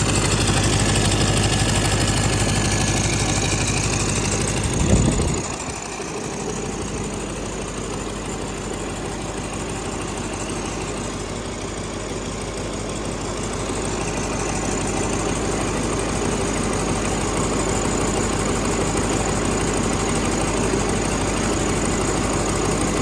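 A Scania diesel V8 engine with its VGT deleted idles steadily with a low rumbling drone and a brief louder thump partway through; no voices.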